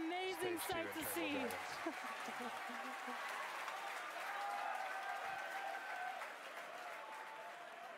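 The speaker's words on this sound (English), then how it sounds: "You can hear our crowd going crazy right now." A crowd cheers and applauds loudly as Falcon Heavy side boosters land on their pads, a sustained roar of claps and whoops that runs throughout, with a voice speaking over the opening seconds.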